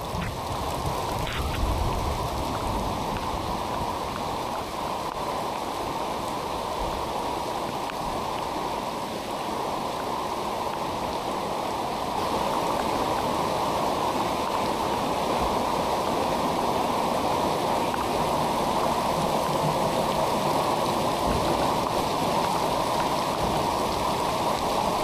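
Heavy rain with floodwater surging through flooded streets, a dense, steady roar of pouring and rushing water that holds at a constant loud level throughout, with no voices.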